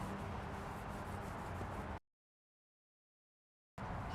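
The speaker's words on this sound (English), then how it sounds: "Let's clean the lens off." Steady close rubbing as a cloth wipes the lens of an old car's yellowed, hazy headlight, running for about two seconds, breaking off into silence, then starting again, with no voices.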